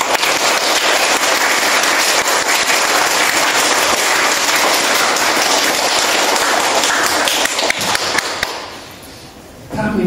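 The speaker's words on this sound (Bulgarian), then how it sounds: "Вашите аплодисменти отново." Audience applause for poet, composer and director Nedyalko Yordanov during his visit to a school in Burgas: dense, sustained clapping from a large group that fills the room, then trails off near the end.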